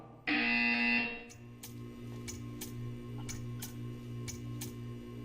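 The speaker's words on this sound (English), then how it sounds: "You will hear a buzzer. When you hear the buzzer, stare at the art." In Portal 2, a harsh, loud buzzer blares for about a second, then gives way to a quieter steady hum broken by a regular series of sharp ticking clicks.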